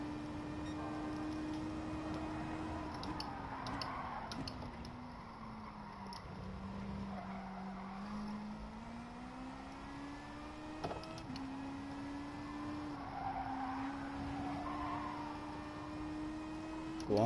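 A race car engine in a racing video game hums as a steady, continuous drone that rises and falls in pitch, close and fairly loud, with no clear skids and no voices.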